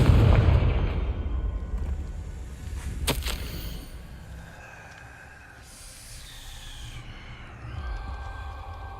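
A Confringo fire-blast spell is cast in the Hogwarts Legacy video game, landing as one sharp, bright burst about a third of the way in over a low, rumbling ambient bed, with no talking.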